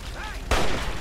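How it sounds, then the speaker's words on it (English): Gunfire in the video game Fallout 3: a sudden burst of shots partway through a one-second stretch, loud and close, following a quieter game ambience. "At least when there's bullets going off,"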